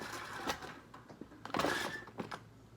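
Reloading press crimping a 16 gauge shotshell, a few sharp mechanical clunks and clicks with a brief scraping squeal in the middle, quiet and close.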